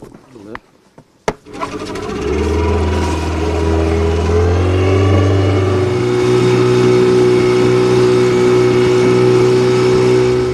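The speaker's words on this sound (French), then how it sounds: "On va aller faire un tour en bateau avec Shamseddine." A motorboat engine starting and settling into a steady, loud droning hum during a boat ride, after a few knocks and clunks at the start.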